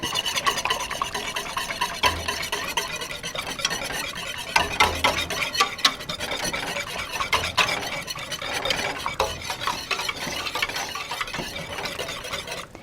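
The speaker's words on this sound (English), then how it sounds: "just to make sure that everything is incorporated, I'm going to whisk it up a little bit" A whisk works through thick mushroom soup in a pot, giving a continuous close scraping and swishing with irregular clinks against the metal sides, steady and moderately loud throughout.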